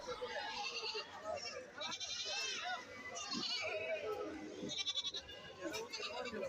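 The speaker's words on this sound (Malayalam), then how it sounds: "വണ്ടികളിൽ നിന്ന് ആടുകളൊക്കെ ഇറക്കിക്കൊണ്ട് പോകുന്നുണ്ട്" Goats bleating at a busy Kerala goat market during a festival sale while animals are unloaded from vehicles: repeated bleats, some near and some farther off, over constant crowd chatter and children's voices.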